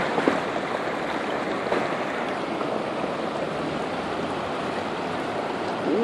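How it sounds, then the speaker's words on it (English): Steady rushing, splashing water fills a flooded area as someone wades through the flood, a continuous loud wash with no speech. "I'm walking through the flood now."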